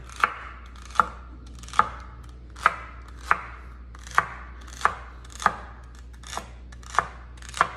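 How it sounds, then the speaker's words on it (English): A knife slices through celery on a cutting board in eleven crisp, evenly spaced chops roughly every three-quarters of a second, each a sharp close thunk with a brief crunch, no voices. "And then we'll slice up our celery."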